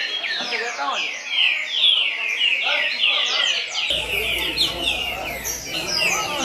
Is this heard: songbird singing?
yes